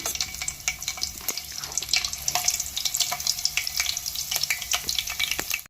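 Green chillies fry in hot oil, a busy crackling sizzle with sharp pops and stirring scrapes throughout, loud and close.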